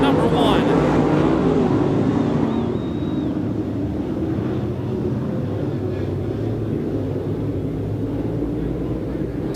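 Super late model race cars roar away at the start of a dirt track heat race at Off Road Speedway, a loud, steady, continuous engine drone filling the air, with a voice faintly audible beneath it.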